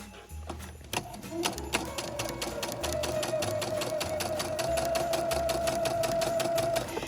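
A domestic sewing machine stitching festive Christmas napkins runs in one long, steady rapid clatter after a short stop-start opening, close and fairly loud with a faint whine, no talk over it.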